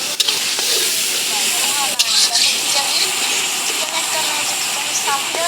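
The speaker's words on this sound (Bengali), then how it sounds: "আদা বাটা রসুন বাটা দেওয়ার পরে" Ginger and garlic paste frying in a pan, a steady loud sizzling hiss that runs throughout with faint scraping from stirring.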